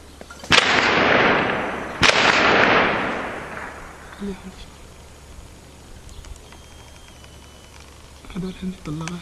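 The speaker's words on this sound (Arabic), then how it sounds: "هذول عندي طلقات." Two sharp, loud gunshots ring out close by about a second and a half apart in Karm al-Safa, Aleppo, each trailing a long echoing decay, followed by quieter background noise and a few faint voices.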